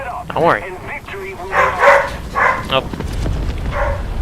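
Dogs bark and yip indoors in a room, a few sharp bursts mixed in with someone talking over them.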